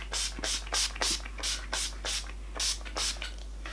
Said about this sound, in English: I'll then cover my face in the setting spray